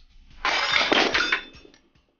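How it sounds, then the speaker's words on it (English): Glass bursts apart loudly and close by after a shot from an EM-15 coilgun, a bright crash lasting about a second, trailing into a few scattered tinkling fragments before silence. "Yeah, it breaks glass."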